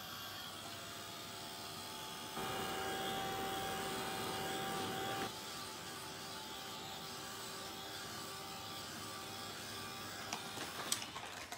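A heat tool drying gel medium gives a steady, faint blowing whir that runs unbroken throughout, with a slight change in pitch partway through and a light tap near the end.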